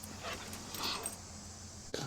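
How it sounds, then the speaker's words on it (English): A dog in a backyard whimpers and whines softly, a thin high plaintive sound running through the clip at moderate distance, ending in a brief louder bump. "Mostly because my dog thinks we should go for a walk now."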